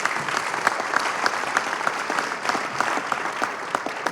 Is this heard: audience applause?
yes